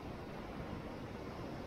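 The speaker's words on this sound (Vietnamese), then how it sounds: "Sóng đập quá cái bãi đá này là khủng khiếp lắm á." Sea waves pound a rocky shore in a steady, muffled wash of surf, heard faint and continuous with no voices.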